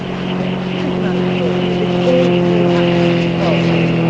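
A Pawnee tow plane's propeller engine drones steadily at an airshow, a loud continuous hum with stable tones that swells slightly midway, heard with a commentator's voice over it.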